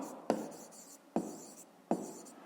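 A pen writing on paper while a math exercise is worked out, with three short scratchy strokes spaced evenly apart, close and quiet with no talk.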